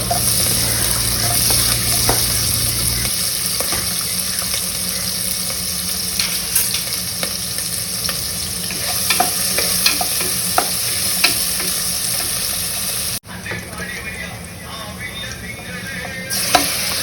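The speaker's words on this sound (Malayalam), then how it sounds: "ഈ ചിക്കൻ കറിക്ക് ഞാൻ സവോള കട്ട് ചെയ്ത് വെളിച്ചെണ്ണയിലൊന്ന് വഴറ്റുന്നുണ്ട്." Onions sauté in coconut oil for a chicken curry, a steady close sizzle with occasional stirring scrapes and clinks, continuing throughout and briefly shifting near the end.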